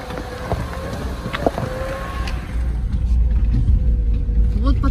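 A car rolls along a stony dirt road in the countryside, a steady loud rumble with wind buffeting and occasional knocks from rocks under the tyres.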